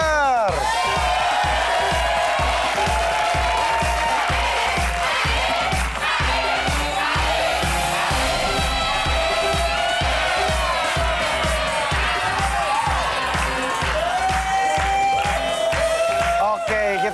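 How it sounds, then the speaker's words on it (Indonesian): A studio audience at an Indonesian Family 100 game show applauds and cheers for a contestant team, steady rhythmic clapping under loud music, with whoops and crowd shouts layered on top throughout. "tepuk tangan yang meriah untuk tim Slengker"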